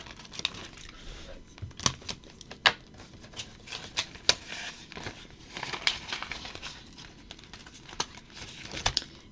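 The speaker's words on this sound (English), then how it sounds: "I will put them in the envelopes" Dollar bills handled and pushed into paper cash envelopes, a close run of crinkling, rustling and sharp paper snaps in an irregular rhythm.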